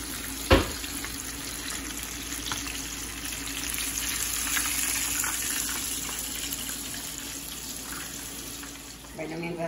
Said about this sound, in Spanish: mientras se acaban de freír